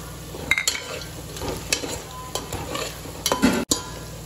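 Whole spices for a paneer dum biryani hit hot oil in a pan, giving a steady sizzle broken by stirring scrapes and clinks of a spoon against the pot, close up.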